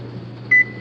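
A single bright electronic beep sounds from a new condo oven's control panel as a button is pressed, a short tone standing out clearly over a low steady room hum.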